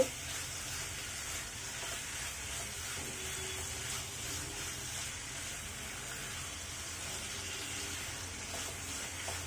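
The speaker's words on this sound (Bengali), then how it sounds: "এক টেবিল চামচের মতো টমেটো সস দিয়ে দিচ্ছি এগুলোকে একত্রে নেড়ে মিশিয়ে নিচ্ছি" Chicken breast pieces with about a tablespoon of tomato sauce being stirred together in a frying pan, a faint, continuous sizzle that stays even from start to finish.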